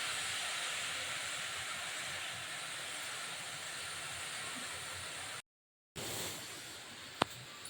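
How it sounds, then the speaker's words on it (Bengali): Greens boil in a pot with a little salt and turmeric, giving a steady, loud broadband hiss of bubbling and steam that runs unbroken before a short gap, then resumes with a sharp click near the end. "একটু নুন হলুদ দিয়ে আমি সেদ্ধ করে নিচ্ছি"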